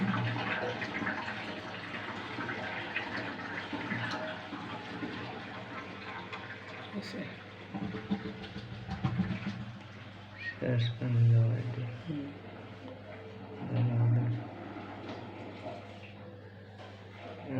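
A washing machine fills with water during a clutch and gearbox repair, a steady running-water rush with a low mechanical hum underneath and a few brief thumps, while a person speaks briefly.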